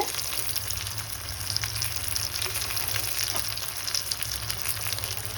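Kaju paneer butter masala roasting in a pan gives a steady, close sizzle with faint scraping, alone and unbroken for the whole stretch.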